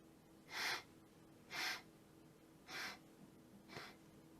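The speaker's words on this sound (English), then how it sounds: "max inhale and the exhale long and slowly with pursed lips" A person takes a deep maximal inhale and then breathes out long and slowly through pursed lips, repeating the cycle four times. The breaths are close and quiet, and the last one is fainter than the others.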